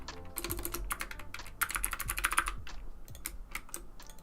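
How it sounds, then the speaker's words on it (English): Typing on a computer keyboard, a steady run of quick clicky keystrokes in bursts, close and clear, with a faint low background hum and no talking. "I'm gonna type in business."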